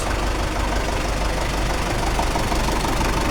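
A 1990 Belarus 82.1 tractor's diesel engine idles steadily with a continuous low rumble and a knocking texture, held at a constant level close by with no voices.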